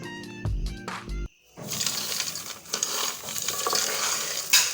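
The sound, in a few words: dry toasted peanuts rattling in a pan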